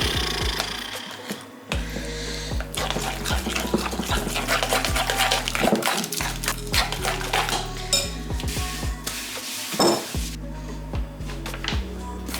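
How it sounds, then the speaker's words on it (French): Ingredients for a sweet snack being mixed in a bowl, with continuous clattering and scraping of utensil against dish, busy and close, with a dog's panting and other kitchen clinks mixed in. "Mélanger ça là."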